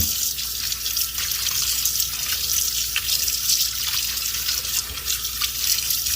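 Steady running tap water pours over meat being rinsed in a sink for Hmong soup, a continuous bright splashing hiss with small drips, close and alone.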